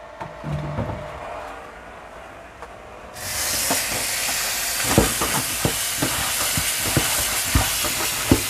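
A single garlic clove fries in a halal wok, with a quiet stretch giving way to a loud, steady sizzle. Scattered clicks and taps of stirring sound close by.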